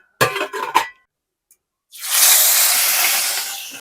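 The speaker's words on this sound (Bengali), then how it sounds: "এবারে আমি মাছ ভেজে নিচ্ছি।" Katla fish dropped into hot mustard oil in a home kitchen, setting off a loud, steady, close sizzling hiss that holds for a couple of seconds, just after a few brief clinks of utensils.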